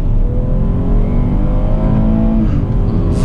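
Chevrolet Traverse V6 engine accelerating hard, revving steadily upward toward 6500 rpm, loud and close from inside the car with a rising whine, no talking.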